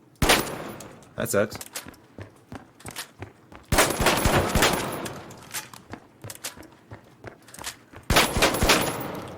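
Shotgun blasts in the game The Finals come in loud, separate bursts: a few shots in quick succession, then pauses. A player talks between and over the shots.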